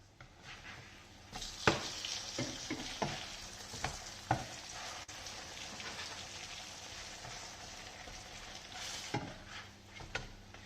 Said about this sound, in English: you basically fry it as if it were a normal pancake anywhere